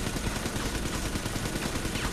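Gunfire in the video game Bioshock 2 forms a dense, continuous barrage of rapid shots. It is loud and sustained throughout, with no speech.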